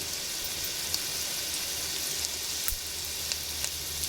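Garlic frying in hot oil for a toor dal tempering, a dense, even crackling sizzle that stays steady and close throughout, with a few faint pops and ticks and no talking.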